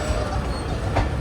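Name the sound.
train approaching platform at Mian Channu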